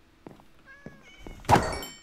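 A cat in Minecraft gives a few soft meows, followed by a louder thunk like a blow or a door, with quiet game ambience and no speech.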